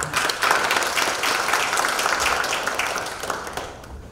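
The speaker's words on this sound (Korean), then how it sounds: "네 분께 감사의 박수 다시 한번" Sustained audience applause at a Korean farmers' cooperative (Nonghyup) sister-ties anniversary ceremony, a dense steady clapping that holds loud for about four seconds before easing off at the end.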